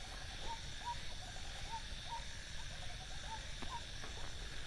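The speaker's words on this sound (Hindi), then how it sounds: "ये तो भाई कोई पक्षी है" An owl hoots at night in a graveyard: a series of soft, faint repeated hoots at roughly even spacing, heard from a distance over a steady hiss of night ambience, with no talk.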